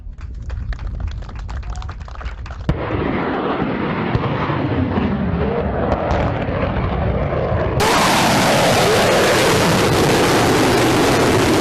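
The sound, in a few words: BrahMos supersonic missile firing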